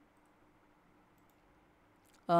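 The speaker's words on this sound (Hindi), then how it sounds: "मैं कर देता हूँ राइट क्लिक" A crisp mouse click from a computer during Android Studio app development, loud and near after a stretch of quiet room hum.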